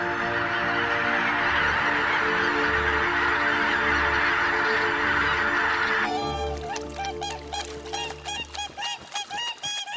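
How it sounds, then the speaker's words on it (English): Whooper swans call loudly with repeated honking, trumpet-like cries over a steady wash of noise, becoming sharper, pulsing bursts toward the end. "Territoriality becomes the purpose of war cries for some whooper swans."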